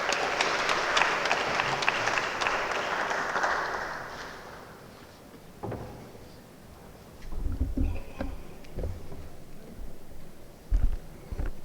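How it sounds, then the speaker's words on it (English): An audience at a legal seminar on advocacy and artificial intelligence gives a loud round of applause that lasts about four seconds and fades, followed by quieter room shuffling and thumps. "Can I please have a big round of applause for him?"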